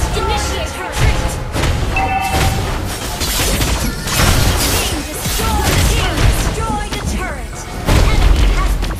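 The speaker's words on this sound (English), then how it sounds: "Your team destroyed the turret!" A turret is destroyed during a Mobile Legends match. Loud booming impacts and crashing blasts repeat over several seconds, layered with game effects and announcer-style voice lines.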